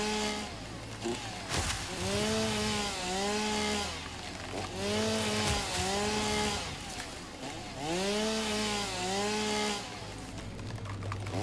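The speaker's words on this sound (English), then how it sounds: "Oh, now I can bring out my chainsaw again." Chainsaw in the factory-building game Satisfactory, revving in repeated rising-and-falling whines as it cuts, loud and close with a steady engine drone between bursts and no talking.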